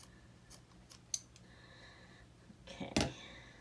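Scissors snip through felt for a felt doll, a few quiet cuts close by ending in one louder crisp snip, in an otherwise hushed room.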